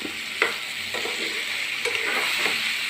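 Curry leaves dropped into a hot pan of chicken thoran, crackling and sizzling loudly up close, with a few sharp pops and spoon stirs over a steady frying hiss.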